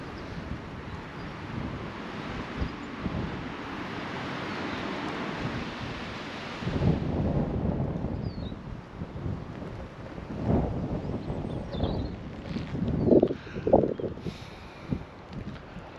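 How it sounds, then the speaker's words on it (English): Steady wind in a graveyard roars across the microphone, with heavier buffeting gusts thumping in bursts toward the end. "it's quite windy today"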